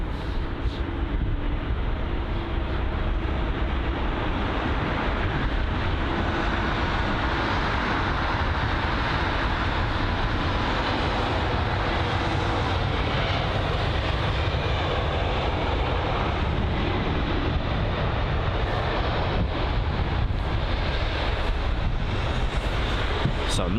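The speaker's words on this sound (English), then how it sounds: "Another arrival inbound. So it's the BA A320 Neo." A British Airways Airbus A320neo arriving at Heathrow, its engines a steady, fairly loud broadband roar held for the whole stretch with wind buffeting mixed in, and no talking.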